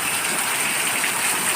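Steady rain pours down outdoors, a dense, even hiss that holds without a break across the short stretch, close and fairly loud, with no voices over it.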